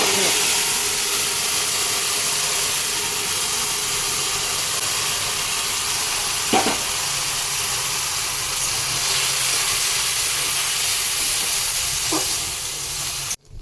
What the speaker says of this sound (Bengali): এই যে তেল গরম হয়ে গেছে এবার কচুটা রাখবো